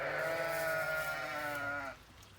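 A sheep bleats loudly and close for about two seconds, a long wavering cry calling for grain, with a second animal's lower bleat overlapping near the end.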